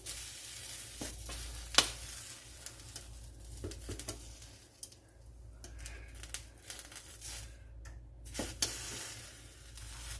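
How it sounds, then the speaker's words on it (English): Lamb sears in a flat pan on the stove with a steady close sizzle, broken by occasional crackles and sharp pops that rise and fall as the meat is moved. "So now I'm going to sear them."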